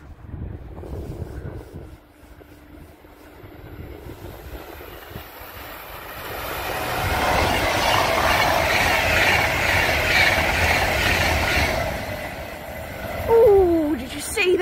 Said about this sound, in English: there's another Pendolino coming